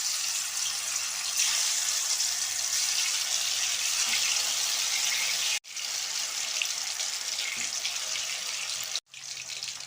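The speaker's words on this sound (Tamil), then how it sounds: "நம்ம சிக்கனை போட்டுடலாம்." Hariyali chicken 65 pieces dropped into hot oil give a loud, steady hissing sizzle that fills the whole stretch, with two sudden brief dips before it resumes.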